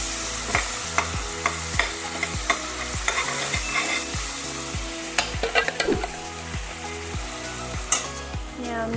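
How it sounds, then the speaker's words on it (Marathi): Ground wet spice paste sizzles and fries in a pan while a utensil stirs and scrapes it in steady rhythmic strokes. The sound is close and continuous, with metal clinks in a village-style kitchen during a kofta curry preparation and no talk. "आता या ठिकाणी आपण वाटण केलेला जो मसाला आहे तो टाकायला लागले बघा"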